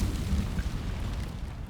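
A fire spell cast in Hogwarts Legacy erupts as a short, low rumbling whoosh of flame, loud at first and then fading over under two seconds.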